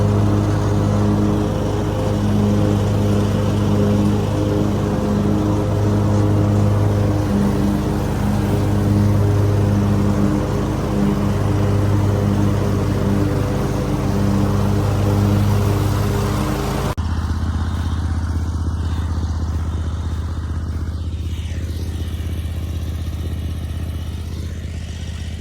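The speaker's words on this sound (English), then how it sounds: "there's the mower we'll be using" A lawn mower engine runs in a continuous, loud mid-pitched drone with a steady rhythmic chug. Its tone shifts abruptly partway through, then carries on at a similar level to the end.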